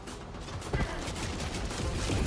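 Ultimatum weapon firing in the shooter game Helldivers 2, a dense rumbling burst of blasts and rapid crackling impacts, loud and continuous through the short stretch.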